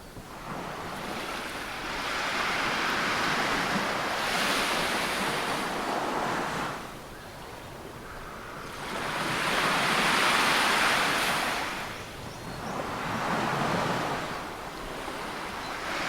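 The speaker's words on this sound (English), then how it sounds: "The waves of Bournemouth, England push my body." Ocean waves roll onto the beach at Bournemouth, England, building into broad roaring surges that swell and fade in slow cycles, with wind buffeting the microphone and no voices.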